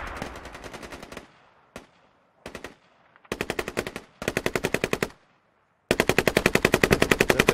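Machine gun bursts in the military shooter game Squad, loud rapid automatic fire in several separated bursts of varying length, the last one long and sustained, with no talk.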